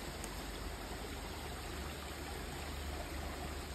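Water of a stream flowing steadily, a constant broadband rush close by with no voices.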